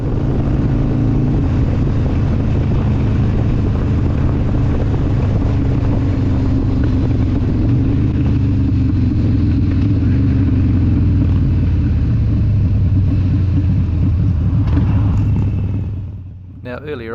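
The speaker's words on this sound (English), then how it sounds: "We're just enjoying being out on the bikes" Motorbikes ride along a country road in rural New Zealand, a loud continuous engine drone mixed with heavy wind rush that fades out at the end.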